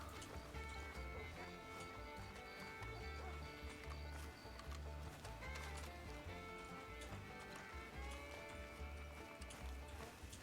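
Horse hooves clip-clop with a rolling cart in a roleplay video game set in 1899, steady and continuous under a constant bed of game music with sustained tones.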